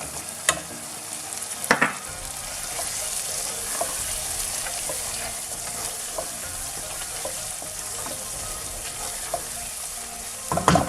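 Chicken bhuna sizzles and fries steadily in a pan after tomatoes are added, with a few sharp clatters of stirring near the start and end; no talk.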